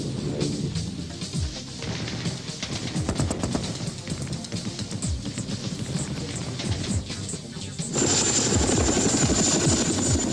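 French Army Puma assault helicopter in flight, its rotor beating in a steady, dense thump with a broad turbine roar, louder and brighter in the last few seconds.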